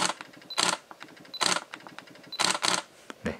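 A Canon EOS M6 Mark II fires its mechanical shutter three times, each release a crisp double click, close up and alone in a quiet room.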